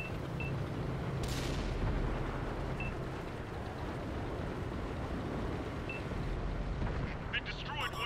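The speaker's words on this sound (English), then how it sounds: "They destroyed one of our tanks." A tank is destroyed during a World of Tanks console battle, heard as a sustained roar of heavy explosive rumble and gunfire with a sharp burst near the start, dense and loud throughout.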